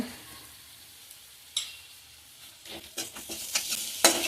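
Ground ginger chutney with jaggery is sautéed in a pan, soft sizzling under scattered scraping stirs that grow busier toward the end, close and fairly quiet.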